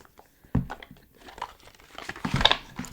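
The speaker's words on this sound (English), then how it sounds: "shuffle from this deck right here." A deck of tarot cards is shuffled up close, producing papery rustling and crinkling with a sharp onset, then uneven scraping and flicking that builds toward the end. No voices.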